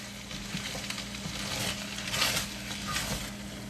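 Bird's Eye sweet and sour chicken stir fry sizzles steadily in a pan, a soft continuous crackling hiss with slight stirring shifts, fairly faint and close.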